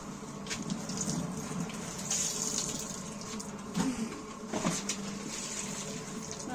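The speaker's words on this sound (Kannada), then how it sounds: "ಇನ್ನೊಂದ್ ಸ್ವಲ್ಪ ನೀರ್ ಹಾಕಿ ಅಕ್ಕ." Water being poured into a 10 kg washing machine while clothes are washed, a steady running splash with a few brief louder gushes, close by, with faint voices in the background.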